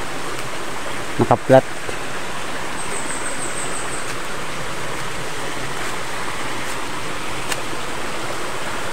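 Steady broadband rush of a creek flowing over rocks, continuous and fairly near throughout, with a couple of brief knocks early on and a faint voice speaking briefly.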